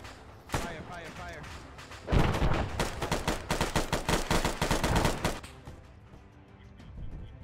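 Heavy gunfire in Arma 3 during a European war campaign battle, a dense run of rapid, loud automatic bursts with sharp reports, starting after a single early shot and trailing off, with voices talking over it.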